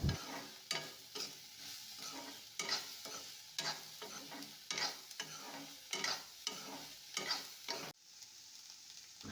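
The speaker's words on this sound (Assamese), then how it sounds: "আৰু এতিয়া এইখিনি অকণমান সময় ভাজি ল'ম কাঢ়া হোৱালৈকে" Soybean chunks frying in a pan while being stirred, a steady close sizzle broken by repeated scraping stirs of the spatula, with no voices.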